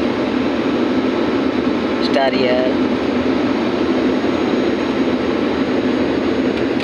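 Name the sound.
airplane cabin noise during flight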